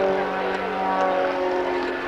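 A small aircraft engine drones steadily at an airshow, a loud, even, buzzing hum with a sustained pitch and no break.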